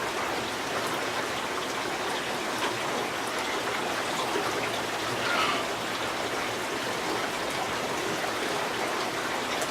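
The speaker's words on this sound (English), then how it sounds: "Now it's raining here in my neck of the woods." Steady rain falls outdoors on a St Patrick's Day evening, a dense, even hiss of drops holding constant and close for the whole stretch, with no voices over it.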